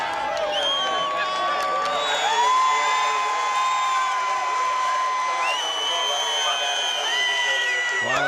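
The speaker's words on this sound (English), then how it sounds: "there's a huge round of applause for Jeff Gordon in Victory Lane" A crowd in Victory Lane at the 1999 California 500 cheers for NASCAR driver Jeff Gordon: a loud, sustained roar of whoops, shouts and whistles with some clapping mixed in, steady throughout.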